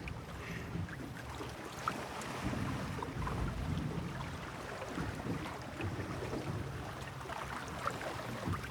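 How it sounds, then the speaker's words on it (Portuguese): Open sea with ocean waves heard from the shore. A quiet, continuous broadband wash with some wind noise runs steadily throughout. "Escute, é o mar, o verdadeiro mar."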